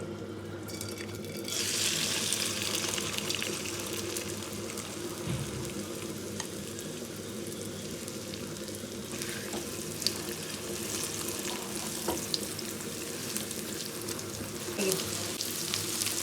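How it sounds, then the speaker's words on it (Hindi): Marinated chicken fries in hot oil with a dense, loud, continuous sizzle that jumps up sharply at the start and holds steady, with occasional faint knocks. "हाँ, तो हमारी चिकन जो है वो फ्राई हो रही है"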